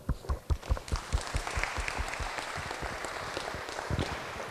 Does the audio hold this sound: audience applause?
yes